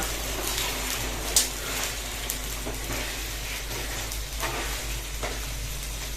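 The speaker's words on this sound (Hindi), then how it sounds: "रात का खाना थोड़ा बचा हुआ था, उसको भी तेल डाल के गर्म कर दिया है।" Leftover dinner reheating in oil in a home kitchen pan, a steady close sizzle and crackle with a few sharper pops, continuous throughout with no talking.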